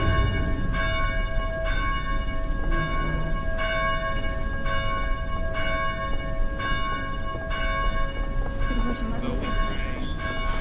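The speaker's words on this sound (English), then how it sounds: "Blasted bells." Church bells ring from a belfry in the Dead Island video game, a steady series of evenly spaced, resonant strikes about once a second, loud and near over a constant rumbling background. The strikes thin out toward the end.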